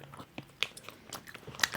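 Roshen Yummi Gummi jelly candy being chewed close to the mic, with a series of soft, irregular biting and squishing clicks spread across a couple of seconds and no talk.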